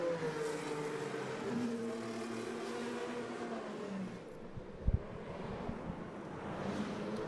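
IndyCar race cars at the Chevrolet Detroit Grand Prix run under caution behind a Chevrolet Corvette pace car, giving a steady engine drone with wind rush and a brief sharp thump midway.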